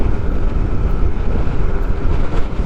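Strong wind on the San Pablo bypass road near Alaminos buffets the microphone with a loud, continuous roar and gusty low rumble throughout.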